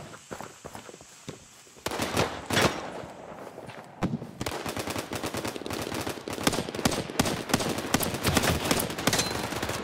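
Rifle and automatic gunfire from the war video game Day of Wars, rapid overlapping shots crackling near and far in dense bursts, with a brief lull before heavy sustained firing resumes.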